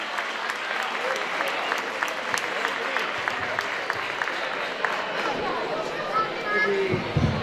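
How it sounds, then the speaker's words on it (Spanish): Audience applause at a ceremony honoring a man for selfless service, steady broadband clapping that fills the whole stretch with a few scattered sharper claps, fairly close and even in level. "Un aplauso."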